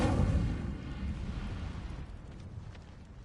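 Incendio fire spell cast in Hogwarts Legacy: a loud roaring whoosh of flame that bursts at once and then trails off over a few seconds, with no voices over it.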